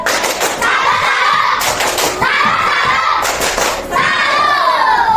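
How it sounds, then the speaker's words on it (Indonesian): A class of children claps the tepuk salut in rhythmic bursts of hand clapping mixed with chanting voices, loud and close, repeated in several groups across the room. "Kita mau kasih tepuk salut untuk semuanya."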